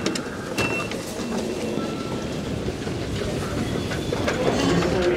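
A London Underground Victoria line tube train running, with a loud continuous rumble, rattling wheel clatter and occasional squeals throughout.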